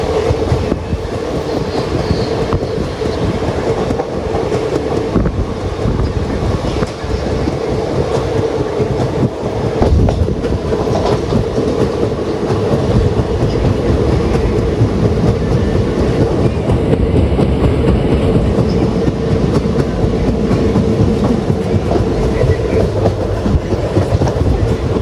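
A passenger train on Kerala's Manjeshwaram to Shoranur line runs near Tirur station, wheels beating a continuous, loud clickety-clack over the rails with a heavy steady rumble throughout.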